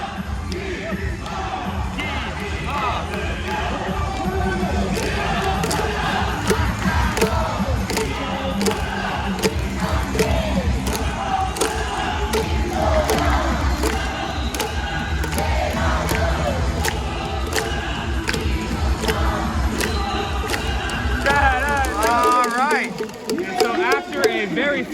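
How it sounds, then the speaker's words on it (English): Korean baseball stadium crowd chanting and cheering for the home team Kia Tigers, a loud rhythmic group cheer with drums and music running continuously, ending with a brief drop near the close. "Very fun cheer for the home team."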